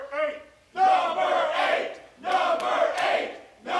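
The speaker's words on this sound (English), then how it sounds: "the crowd just taunting him here" Wrestling crowd at an indie show taunting a wrestler, loud bursts of group chanting and jeering voices in short repeated waves with brief gaps between.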